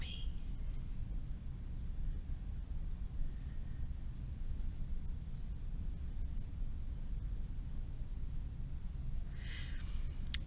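Gentle pencil erasing across an ice cream cone drawing, a soft scratchy rubbing that stays faint and close against a steady background hiss, with a brief brighter burst of scrubbing near the end.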